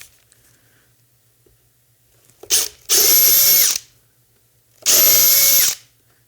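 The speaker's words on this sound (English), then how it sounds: "Let's drill again." A power drill bores holes while installing electronics, with a brief whir followed by two loud, sustained drilling bursts of about a second each, separated by a short quiet pause.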